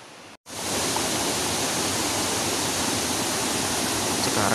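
Curug Sawer Nambo, a waterfall in Bogor, West Java, roars as a steady, loud, broadband rush of falling water heard up close, starting after a brief gap and continuing without a break.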